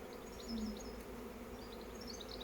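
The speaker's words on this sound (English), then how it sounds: "So many bees here" Faint, close buzzing of many bees around a hive at an outdoor bee school in Scotland, a continuous hum with brief louder passes of individual bees nearby.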